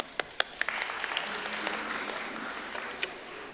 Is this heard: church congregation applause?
yes